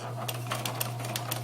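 A strong sewing machine punches through thick layered fabric seams in a quick run of sharp rhythmic needle clacks over a steady motor hum, close by with no talk.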